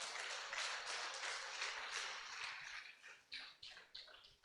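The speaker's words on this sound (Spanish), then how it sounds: "Dele un aplauso al Señor" A church congregation at a Sunday service claps together for the Lord, a dense, even wash of applause that thins into separate bursts near the end.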